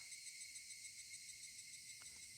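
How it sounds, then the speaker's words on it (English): Higurashi cicadas from the Higurashi When They Cry visual novel, a steady high-pitched droning trill that holds evenly throughout, continuous and moderately loud, with no voices. "That was the chirping of the Higurashi telling me it was evening"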